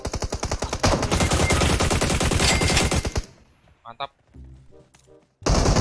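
Loud, rapid automatic gunfire bursts in a PUBG Mobile squad fight, then cuts off abruptly. A voice speaks briefly in the quiet before the firing returns at the end.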